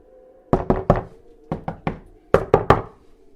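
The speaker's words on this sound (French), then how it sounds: "Il frappait et cognait à la porte de l'école." Someone knocks and bangs on a school door in three quick groups of three sharp, solid raps, close and loud with short pauses between the groups.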